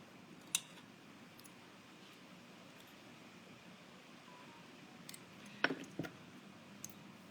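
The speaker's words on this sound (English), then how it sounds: "You're going to cut 2 pieces of ribbon, or 2 pieces into 2-inch pieces." Scissors snip through ribbon in a few faint, sharp cuts, one early and a small cluster later, set against a quiet background with no talk.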